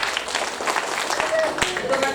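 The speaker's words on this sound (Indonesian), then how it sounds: "Kita tepuk tangan sekali lagi." A graduation ceremony audience at Universitas Madura's FKIP undergraduate yudisium breaks into a brief, dense patter of applause, with voices and a microphone voice mixed in.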